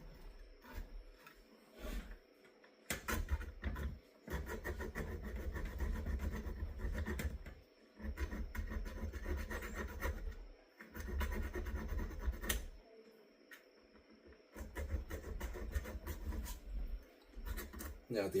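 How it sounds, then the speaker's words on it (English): A file deburrs a firearm part clamped in a vise, making repeated rasping strokes in bursts of a second or two, each separated by short pauses, close and moderately quiet. "Now the outside's deburred"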